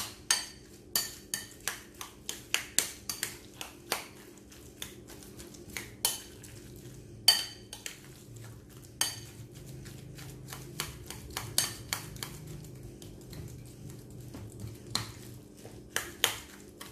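A spoon clinks and scrapes against a bowl while tofu fritter batter with pepper is stirred, a steady series of light, close knocks at an uneven rhythm over a quiet background.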